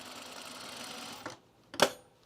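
A sewing machine stitching a pajama top runs in a short steady whir, then stops, followed by a sharp mechanical clack and rattle up close.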